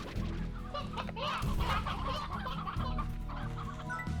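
Chicken clucking from the Slime Rancher video game, a run of busy, overlapping clucks and squawks sounding close and fairly loud over steady game background noise.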